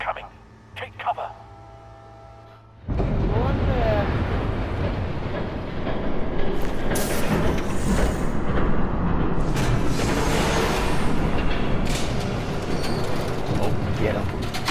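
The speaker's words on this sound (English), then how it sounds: "There's a train coming." A train rushes past in the Batman: The Telltale Series video game, loud and steady with rumbling rail clatter that swells after a brief quieter stretch of talk and mechanical clicks at the start.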